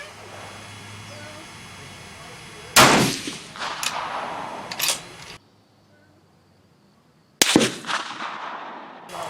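Rifle firing reloaded 7.5x55 Swiss cartridges at a range, two sharp loud reports a few seconds apart, each followed by ringing echo and fading noise.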